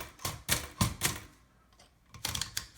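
Keystrokes on a custom Remington Noiseless Deluxe typewriter, typing capital and lowercase H for a type alignment: several distinct, moderately loud key strikes, close by, with a brief pause before a final pair.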